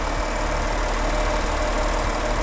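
A Volkswagen Touareg V6 3.0 TDI diesel engine idles at a steady, even rumble, close and continuous, with no voices over it.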